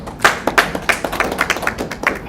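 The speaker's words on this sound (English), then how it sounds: "Can you clap for ourselves, please?" A small audience at a learning event in Ghana claps unevenly, with sharp, separate hand claps of varying strength in a loose, sparse rhythm.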